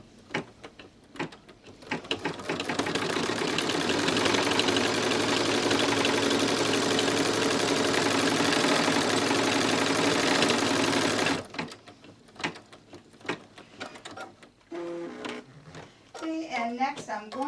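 An embroidery machine stitches an appliqué tack-down on a hooped potholder, a loud steady run of rapid stitching for several seconds that then stops, leaving quiet handling noises and a voice.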